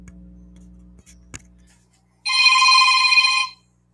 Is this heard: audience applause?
no